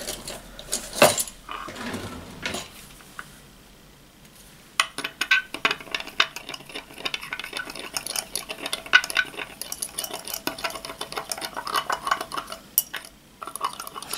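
Something is stirred in a container with a utensil, giving rapid, close clinking and tapping against the sides after a few louder knocks and a brief pause.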